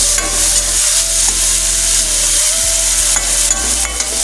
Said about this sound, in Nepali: एकछिन फ्राई गरौँ।